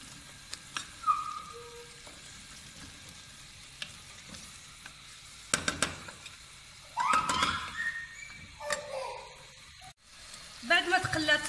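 Chicken and onion fry in oil, sizzling quietly with bursts of stirring and scraping that come and go, and a few brief knocks in between.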